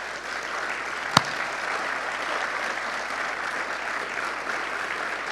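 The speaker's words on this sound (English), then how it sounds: "let's just start off by giving the Barrett Family Foundation a huge round of applause" Steady applause from an audience at the 2018 Barrett Family Foundation Teacher Awards, continuous and even, with one sharp louder clap early on.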